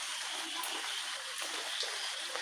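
Floodwater flowing in a constant broadband rush and hiss, close and fairly loud, with no pauses or voices.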